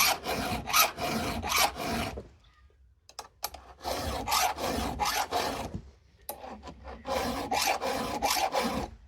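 A hand file rasps across a chainsaw chain's cutters in quick, close strokes, bursts of several strokes separated by short pauses as the file is repositioned.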